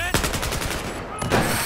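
Rapid automatic gunfire from the video game Battlefield 4 rattles in loud repeated bursts for most of the moment, with a brief lull before another volley.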